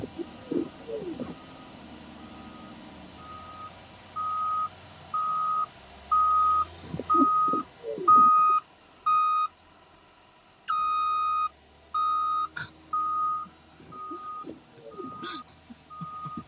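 A front end loader in a snowstorm sounds steady, evenly spaced reversing beeps, a long series of sharp tones that pause briefly partway through and then resume. Engine rumble and people talking run underneath.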